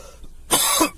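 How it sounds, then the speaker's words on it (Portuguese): A single short, harsh cough from a person, loud and close, lasting under half a second in otherwise quiet surroundings. "essa tosse não me larga."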